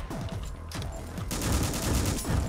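Rapid bursts of video game gunfire, dense overlapping shots crackling in quick succession with short pauses between volleys, loud and close.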